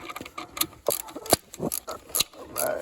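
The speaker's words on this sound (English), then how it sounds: "we gotta tighten up some bolts here" Hand ratchet tightening bolts on a mock-up wooden motor mount for a Turbo 3400 engine, quick irregular clicking strokes close up, alone without talk.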